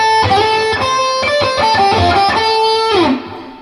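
Electric guitar playing a section of a song, a quick run of melodic notes ending with a sustained bend that fades away. No one speaks.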